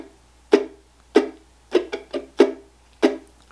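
A ukulele with muted strings strummed in a thumb-roll triplet pattern, short percussive chunks in a steady rhythm with quick doubled strokes between, close and clear with no voice.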